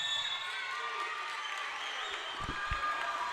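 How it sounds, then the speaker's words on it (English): A Longhorns home crowd at a Class 2A bi-district high school basketball game cheers and claps after a three-pointer, a steady broad roar with a couple of low thumps of a bouncing ball near the end. "Waking up the Longhorn crowd a little bit."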